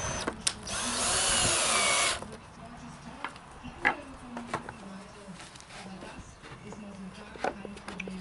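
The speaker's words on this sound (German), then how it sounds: "Wir setzen erstmal alle Schrauben rein." A power drill on a terrace deck build drives screws into the boards in a loud two-second burst near the start, followed by faint clicks, knocks and scattered handling noises.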